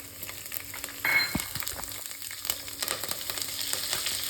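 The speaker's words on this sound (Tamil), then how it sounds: "வெள்ளை பூண்டு 2 சின்ன சின்னதாக கட் பண்ணியிருக்கேன், அதையும் போட்டுட்டேன்." Finely chopped garlic and chana dal fry in oil in a pan for green gram rice, with a close, crackling sizzle, a brief louder burst and repeated light spatula knocks.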